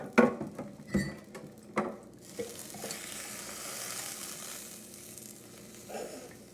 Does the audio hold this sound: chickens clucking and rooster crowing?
no